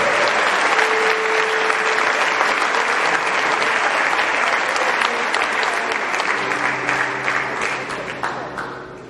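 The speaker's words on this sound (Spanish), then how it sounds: "Pues si se lo creen, denle un aplauso al Espíritu Santo." A church congregation at a holy hour service bursts into loud, sustained applause that fills the room, with a few cheers and voices mixed in, before tapering off near the end.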